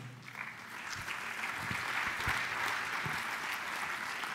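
A conference audience of young municipal administrators applauds, a steady, fairly soft roll of many hands clapping at a distance that continues throughout.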